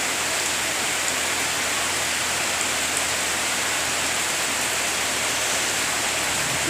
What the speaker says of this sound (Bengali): ওদের বৃষ্টি, প্রচণ্ড বৃষ্টি হচ্ছে।